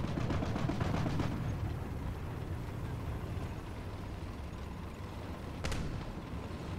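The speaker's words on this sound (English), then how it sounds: "Yeah, gunfire coming down this way." War Thunder battle gunfire, a rapid burst of machine-gun shots at the start followed by a distant crack later, over a constant rumbling engine and wind background, no talk.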